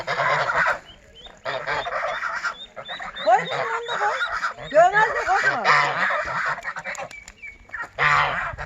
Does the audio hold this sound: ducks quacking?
yes